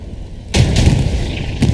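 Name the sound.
Sherman tank firing at a Panzer IV in the video game Hell Let Loose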